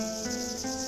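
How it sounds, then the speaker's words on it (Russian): Cicadas in a desert nature reserve make a steady, continuous high ringing drone that stays constant throughout the short stretch. "Тихие вечера в призаисанье неповторимо озвучивает несмолкаемый звон цикад, экзотических жителей пустынь."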